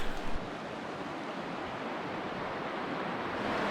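Steady rushing water flows close by, a constant broadband wash with a faint thump at the start.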